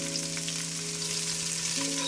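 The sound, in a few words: sauteing onions and garlic in a pan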